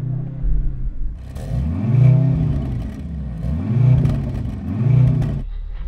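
A car engine revs three times in a steady rhythm, each rev rising and falling with a deep, close rumble.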